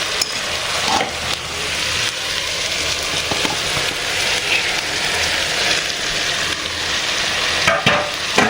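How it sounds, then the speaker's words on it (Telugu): Bommidai fish added to a tamarind gravy in a pan for a pulusu curry. A close, continuous sizzle and bubbling of frying runs throughout, with occasional light scrapes from stirring. "ఇప్పుడు దీంట్లోకి బొమ్మిడాయి వేసేద్దాం."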